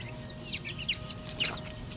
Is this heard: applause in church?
no